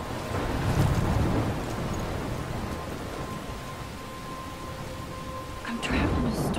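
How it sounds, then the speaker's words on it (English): Thunderstorm in the Life is Strange video game, with steady heavy rain roaring throughout and a low rumble of thunder swelling near the end. "I'm trapped in a storm?"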